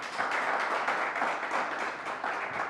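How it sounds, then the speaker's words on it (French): An audience claps for an author presenting his new book, a steady, dense round of applause filling the short stretch at even strength, with no voices over it. "j'aimerais qu'on applaudisse pour Daniel"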